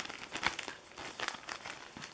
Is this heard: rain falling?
no